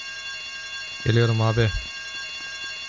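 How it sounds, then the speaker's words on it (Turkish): Bank alarm ringing in GTA Vice City, a continuous electronic tone through the whole stretch, with someone briefly speaking over it. "I told you not to touch that alarm."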